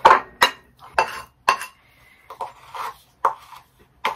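Homemade deodorant ingredients being mashed together in a small dish aboard a narrowboat, giving a run of about nine sharp clinking, scraping strokes in a steady rhythm, close and clear with no talking.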